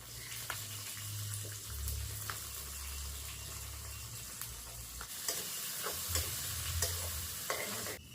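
Onions dropped into a hot pan fry with a steady, loud sizzle, broken by scraping stirs and faint tapping knocks, with a low hum underneath throughout.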